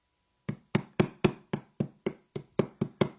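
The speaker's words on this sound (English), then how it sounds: "Start it with a hammer" Ten sharp hammer taps, evenly spaced, driving a pin into a firearm trigger receiver, each strike a crisp metallic knock with a short ring, close and alone with no talk.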